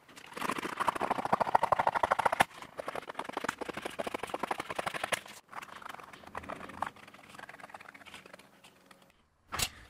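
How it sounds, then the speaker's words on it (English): Scissors snip steadily along the edge of a paper pattern glued onto chipboard, a dense run of rapid crisp cuts that pauses, resumes more sparsely, and ends with one sharp final snip, close and without speech. "And then I'll trim on the edge with scissors."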